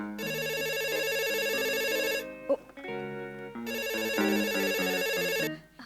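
A melodic phone ringtone plays twice in repeating electronic chimes, clear and fairly close, with a short pause between the two rings.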